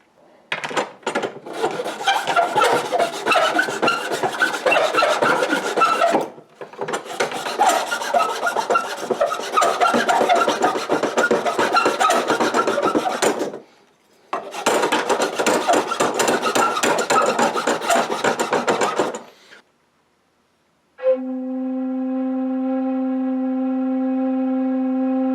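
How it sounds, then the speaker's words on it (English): Flat file rasps against the end of a PVC flute in three long bursts of quick, gritty back-and-forth strokes, close and loud with short pauses between, then the flute sounds a clear, steady sustained note. "I'm taking my flat file and I'm filing down the far end just a little at a time"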